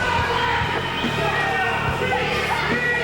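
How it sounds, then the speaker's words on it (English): A wrestling arena crowd at a Portland Wrestling event roars in a dense, continuous wash of cheers and yells, loud and unbroken for the whole stretch with no single voice standing out. "listen to this crowd"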